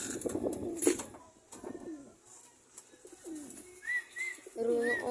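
Pigeons cooing close by in short, soft, throaty phrases with brief pauses between them, a few light rustles, and no talking.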